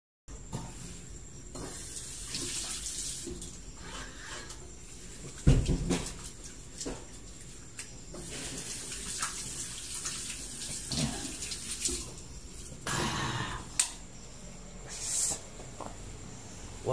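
Water runs steadily from a tap at a roadside checkpoint, hissing and splashing continuously for several seconds while someone washes up. Occasional clunks and bumps are louder near the middle, and no speech is heard.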